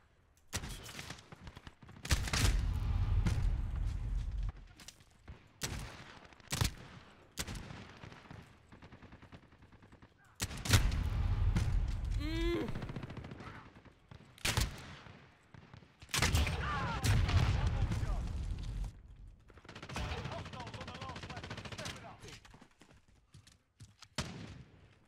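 Call of Duty gameplay with bursts of automatic gunfire and single shots in irregular clusters, loud and punchy, separated by short quieter gaps and a whistling effect.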